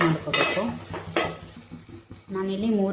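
A spoon stirs a bachelor-style tomato bath mixture with turmeric and garam masala in a pot, producing a few close metallic clinks and scrapes over a soft simmering background.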